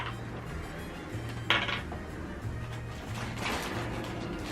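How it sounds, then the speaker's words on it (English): Toy play dishes clatter and clink as they are handled, a few light plastic knocks and rattles over a steady low background hum. "Look what I got. I got dishes."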